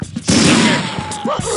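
Dense, loud gunfire from the Ballistic Weapons mod in Unreal Tournament 2004 bursts in overlapping shots with booming tails, mixed with brief voice-like game sounds.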